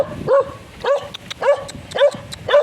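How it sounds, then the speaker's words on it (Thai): A small dog barks five times close by in an even, rapid rhythm, each bark short and sharp. "ตัวเล็กนี่เห่าดุนะคะเห่าอย่างเดียว"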